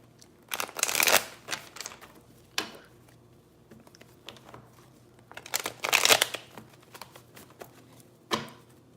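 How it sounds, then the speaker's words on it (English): Tarot oracle cards shuffled by hand in two long riffling bursts with a few shorter flicks between them, close and crisp against a quiet room, with no speech. "I'm even having trouble shuffling."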